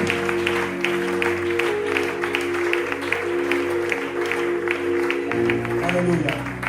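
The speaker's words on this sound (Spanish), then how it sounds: "un fuerte aplauso al Señor" A church congregation claps during a Bible study gathering, broad applause running under sustained musical tones and a voice that continues over it.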